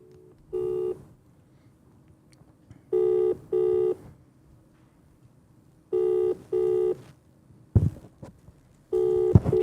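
A phone call is placed: paired electronic touch-tone bursts sound in short separated groups, with brief clicks in between, ending in a final tone burst; fairly clear and close, with no talking over it.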